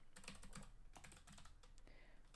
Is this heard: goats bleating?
no